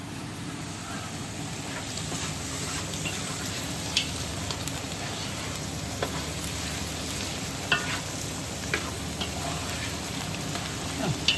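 Sliced onions fry in hot oil for a jackfruit biriyani, giving a steady, close crackling sizzle throughout with occasional soft stirring clinks and no voices.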